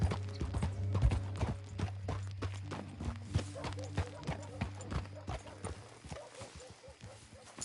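Horse hooves clip-clop steadily on the ground in Red Dead Redemption 2, a close, even walking rhythm over a low ambient hum, with some voice activity in the game.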